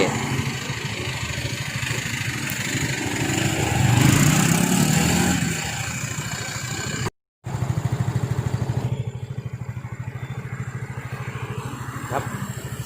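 A motorcycle that used to stall and jerk at red lights, running after its fuel filter and air filter were replaced: the engine idles steadily, revs up for a couple of seconds, then settles back into a smooth, unbroken idle.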